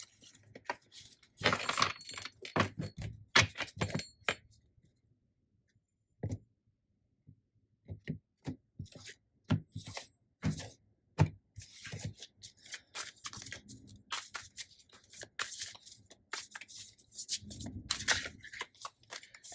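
Crisp, papery riffling of a tarot card deck being shuffled in repeated bursts, with short pauses between, close up and fairly clear.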